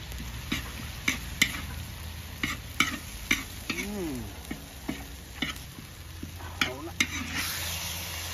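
Dok kham is stir-fried with spring onion and coriander in a Shan-style kitchen, a soft sizzle under a string of sharp, irregular clinks and scrapes of a utensil against the pan, close and fairly quiet.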